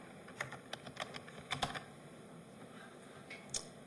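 Quiet typing on a computer keyboard, a scatter of quick irregular keystrokes with a short flurry in the middle, close but soft, with no talking.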